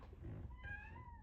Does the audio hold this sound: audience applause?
no